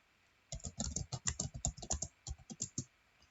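A quick burst of crisp, close keystrokes on a computer keyboard as a router command is entered in a CSR1000v virtual machine, about a dozen distinct clicks in a rapid, uneven rhythm with no voices.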